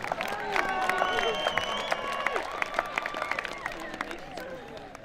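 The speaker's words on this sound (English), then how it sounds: "One more round of applause for veterinary assistant" Audience at a 2022 career and technical center commencement ceremony clapping steadily, a dense spread of hand claps with some cheering and crowd murmur throughout, fairly loud and sustained.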